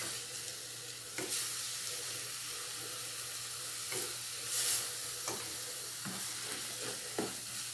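Zucchini farofa frying in olive oil in a home kitchen, a steady soft sizzle with occasional stirring scrapes and clinks of a utensil against the pan, heard alone at close range.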